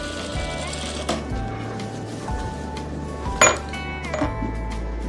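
A sewing machine stitches a sharara suit in steady, rhythmic runs with brief pauses between them, close and clear, with light clinks here and there.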